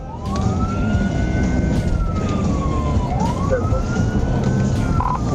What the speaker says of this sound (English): activated his hazard lights and siren